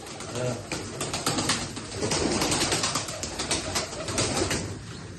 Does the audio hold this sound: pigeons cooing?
yes